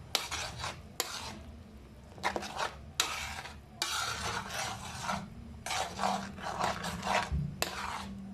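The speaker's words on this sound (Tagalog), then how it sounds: "Lalagay na natin yung pork belly natin. Then, haluin natin siya." Pork belly is stirred into boiling coconut milk for laing, with repeated bursts of scraping and rasping from a utensil against the pot over a low bubbling simmer, close and rhythmic.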